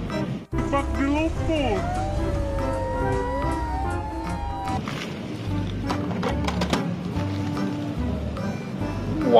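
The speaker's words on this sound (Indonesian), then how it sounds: "Wah, mobil ambulan lagi." Toy ambulance siren, wavering electronic tones that sweep up and down for several seconds amid busy toy noises and clatter, with a voice talking over it.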